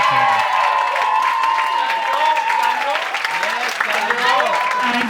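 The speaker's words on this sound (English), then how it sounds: "how about a round of applause just for the bridesmaids?" Wedding guests at a couple's reception applaud the bridesmaids with a sustained, dense wave of clapping, mixed with whoops and voices calling out throughout.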